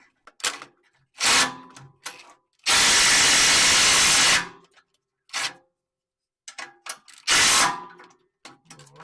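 A ratchet wrench tightens the last catalytic converter bolt on a Chevrolet S10, short bursts of clicking separated by pauses, with one longer sustained run of rapid clicks in the middle, close and fairly loud.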